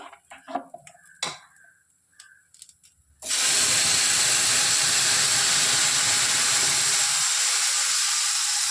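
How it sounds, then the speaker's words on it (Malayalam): Erissery made with ripe nendran raw plantain is poured into browned tempering, setting off a sudden loud, sustained sizzle that follows a few quiet clinks and taps. "ഇതിലോട്ട് നമുക്കിനി എരിശ്ശേരി ഒഴിച്ചു കൊടുക്കാം"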